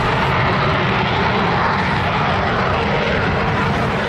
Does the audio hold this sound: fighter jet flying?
yes